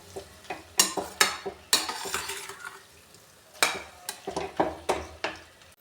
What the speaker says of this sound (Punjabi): ਇਹਨੂੰ ਚੰਗੀ ਤਰ੍ਹਾਂ ਅਸੀਂ ਮਿਕਸ ਕਰ ਦਾਂਗੇ